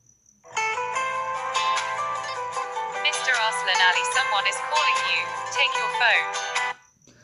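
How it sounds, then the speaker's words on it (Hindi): A custom name ringtone plays on a mobile phone, a bright tonal melody with background music and a voice-like part, running steadily for about six seconds before stopping abruptly. "मैं आपको अभी प्ले करके दिखाऊंगा कि किस तरह से वो रिंगटोन"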